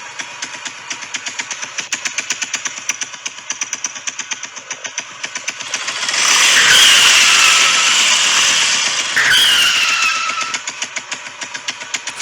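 A small motorcycle engine revs up to a loud, sustained roar, drops briefly, then surges again before settling back to a rapid idle putter.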